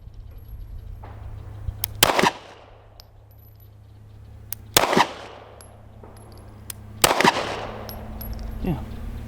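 Pistol fire from a Canik METE MC9 or Hellcat Pro: three loud, sharp shots a couple of seconds apart, each ringing off briefly, with no voices.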